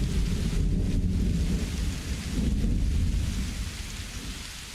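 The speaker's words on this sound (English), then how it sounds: "that thunder sound effect was scarily accurate" A thunderstorm in the Without a Dawn video game: a deep, heavy rolling rumble of thunder swells twice over a dense, loud bed of pouring rain, with no pause in the low-end roar.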